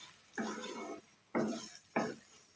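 Masala and cashew paste are stirred into a drumstick curry in a pot, three distinct scraping strokes of a spoon against the vessel, close and fairly quiet, with short pauses between them.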